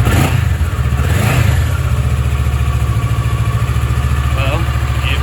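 Kawasaki Versys 650 motorcycle engine idling steadily after a booster plug was fitted, close and loud with a brief rev near the start, while someone speaks over it.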